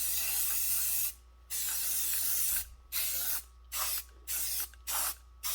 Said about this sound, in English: I'm just going to keep spraying these.